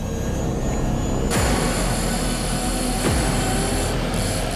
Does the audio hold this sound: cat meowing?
no